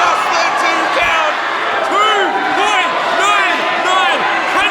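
A wrestling crowd roars after a near-fall at a live event, with many voices yelling, whooping and cheering in a loud, sustained wave, some shouts rising and falling in pitch over the din.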